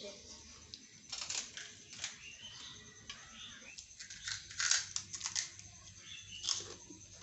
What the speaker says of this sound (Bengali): এত মুড়মুড়ে হয়েছে না সেই আওয়াজ হচ্ছে